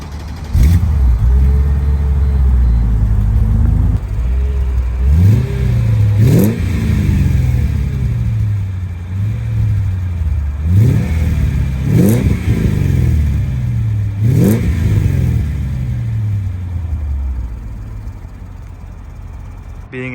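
A supercharged Mercedes W210 E55 AMG Kompressor with Kleemann tuning and no resonator revs repeatedly, rising sharply and falling back several times over a deep idle rumble, loud and close.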